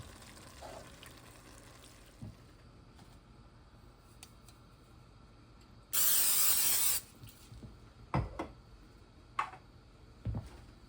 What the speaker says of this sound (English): That's all you need is just a little bit of spray, not much.